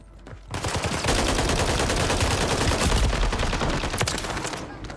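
Rapid automatic fire from a BP50 rifle in Warzone, a dense burst of close, loud shots rattling almost continuously for several seconds before tapering off, with no talk over it.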